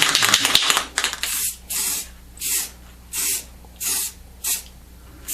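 Short repeated bursts of spray paint hiss onto a plastic motocross boot, about six evenly spaced puffs following a longer continuous spray, close and clear with no talking.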